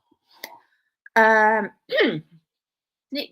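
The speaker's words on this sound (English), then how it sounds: "Notice whenever I clear my throat, it sounds like I'm saying Donald." A single voiced throat-clearing noise, close and fairly loud, drawn out so it almost sounds like a spoken word, with brief softer vocal sounds around it.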